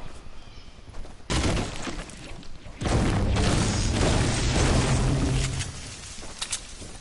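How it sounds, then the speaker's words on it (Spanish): Gunfire in a video game erupts in loud, sustained volleys of rapid shots. A short burst comes first, then a longer stretch of heavy firing that tapers into scattered pops. "Aquí yo escuché disparo"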